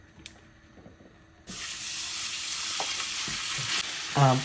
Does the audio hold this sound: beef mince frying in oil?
yes